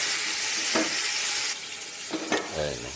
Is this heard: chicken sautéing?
yes